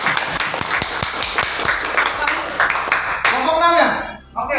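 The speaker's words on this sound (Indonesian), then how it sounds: "Oke, tepuk tangan untuk kelompok 2." Students in a classroom clap for a student group, a short burst of scattered hand claps mixed with a voice and room chatter.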